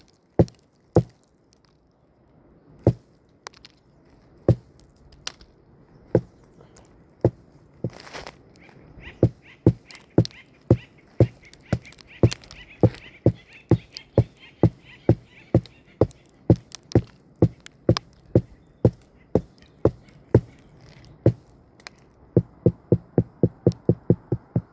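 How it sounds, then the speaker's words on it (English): A stone axe strikes a tree trunk outdoors in dozens of sharp, woody thwacks, spaced irregularly at first and then coming in a quick run of blows near the end. "I have resorted to just whacking the tree."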